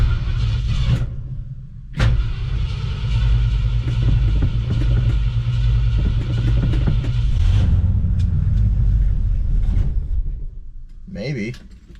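An old barn-find car's engine cranks and catches, then runs with a steady low rumble close by for several seconds before cutting out near the end, with a brief clunk or door sound at the close.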